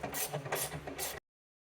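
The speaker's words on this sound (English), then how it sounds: "Take our T30 bolts or screws and be able to tighten those in place" Three quick, close ratcheting bursts from a tool driving T30 screws on the trunk of a 2008-2016 Chevrolet Cruze, evenly spaced, then an abrupt stop into silence.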